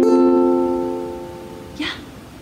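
A single guitar chord is strummed and rings out, slowly fading, followed by a short soft voice near the end.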